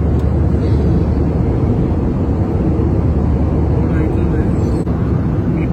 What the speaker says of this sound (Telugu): టర్బులెన్స్ అంట మామ, ఊగుతూనే ఉంది ఫ్లైట్